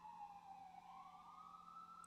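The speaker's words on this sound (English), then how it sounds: "Sorry about the sirens, guys." Emergency vehicle siren wailing outside, a faint, distant rising and falling tone, continuous and alone.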